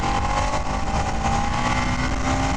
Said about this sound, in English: I'll be accelerating to 60 and I'll be braking hard